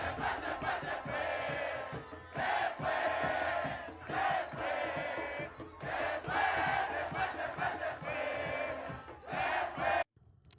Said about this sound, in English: This is Venezuelans cheering again.